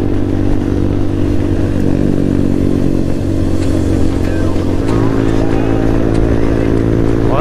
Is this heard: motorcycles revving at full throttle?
yes